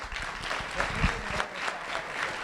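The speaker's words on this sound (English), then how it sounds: "A round of applause for Easton Roy." A crowd at an award ceremony applauds steadily, a dense patter of clapping hands throughout.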